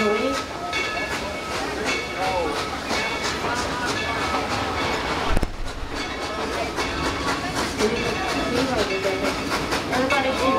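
The Dollywood Express steam train, engine #70 The Mighty Cinderella, running with a steady rumble, hiss and clatter of the cars while people talk over it throughout.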